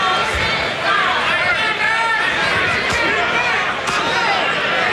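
Arena crowd at a boxing match between Orlin Norris and Nate Miller, a dense, continuous murmur and roar filling the background while a commentator talks over it throughout.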